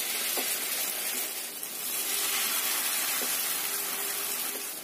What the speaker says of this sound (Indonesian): ini yang sudah kita celup-celupkan tadi kita goreng